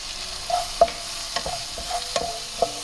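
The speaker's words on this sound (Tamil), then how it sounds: "சேர்த்து ஒரு 2 நிமிஷம் நல்லா ஃப்ரை பண்ணிக்கலாம்." Hot butter sauce with chilli paste and a spoon of sugar being stir-fried in a pan for Sri Lankan crispy hot butter cuttlefish; a low steady sizzle with intermittent spoon scrapes and taps against the pan, heard alone at close range.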